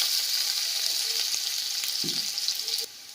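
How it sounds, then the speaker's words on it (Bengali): Onions fry in a pan with a steady, bright sizzle that holds evenly for about three seconds, with a couple of faint utensil taps before the sound drops off abruptly near the end. "একটু সময় নিয়ে পেঁয়াজটাকে একটু ভেজে নিতে হবে।"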